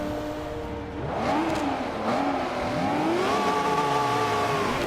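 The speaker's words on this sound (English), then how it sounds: "I will compliment the sounds of the cars in the game" Race car engines in the video game Forza 5 rev and whine continuously, pitch sweeping up and down as they accelerate and shift, loud and steady with no voices.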